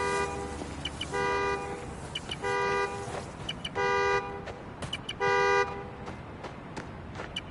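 A video game car horn, triggered by a key fob in Marvel's Spider-Man: Miles Morales, honks repeatedly in evenly spaced short blasts, about five toots, loud and clear over a steady background hum.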